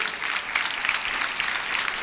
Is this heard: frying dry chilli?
no